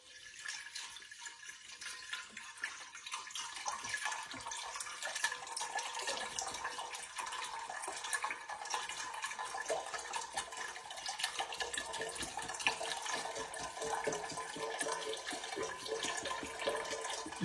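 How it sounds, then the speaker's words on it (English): Chicken broth pours steadily and continuously into a pot, a long splashing stream that goes on with no talking. "I'm just going to pour the rest of this into the pot."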